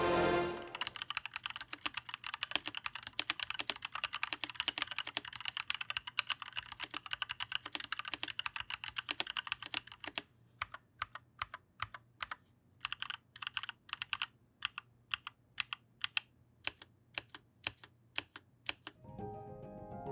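ROG mechanical keyboard switches clicking through steady, fast typing, a dense run of close, crisp keystrokes that thins into sparser, separated clicks in the second half.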